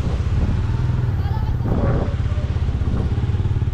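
A big-bike motorcycle engine idles and rumbles steadily up close at an eco park in Tanauan, with people talking over it throughout.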